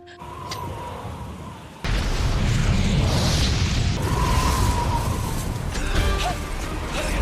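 Nitroglycerin blast on an ice surface, a sudden loud broadband burst near two seconds that stays as a sustained roar and rumble of debris for several seconds, with fainter tones before it.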